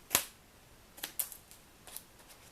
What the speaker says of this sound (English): I'm just going to take my scissors and cut that down